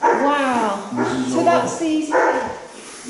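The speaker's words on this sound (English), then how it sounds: "Is it a German Shepherd?" A big German Shepherd barks and whimpers several times in short, yelping bursts, close and loud, mixed with people talking nearby.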